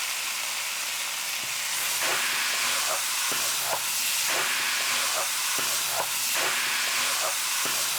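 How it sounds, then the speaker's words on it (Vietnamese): Peeled shrimp stir-fry in a pan with a loud, steady sizzle and hiss, while a utensil clinks and scrapes in repeated light strokes, close and with no talk. "Mình sẽ xào cho cái phần tôm này thấm gia vị và săn lại nha."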